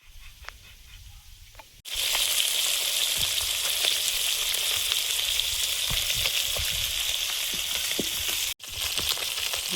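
Pieces of koi (climbing perch) fry in hot oil in a pan in a Bengali kitchen. A loud, continuous sizzle starts after a quiet opening and runs steadily, broken by one brief cut near the end.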